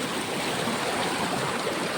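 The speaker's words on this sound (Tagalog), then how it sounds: "Sobrang lakas ng ulan talaga." Very heavy rain with rushing water, a loud, dense, continuous downpour and torrent that fills the whole clip, close and steady with no voices.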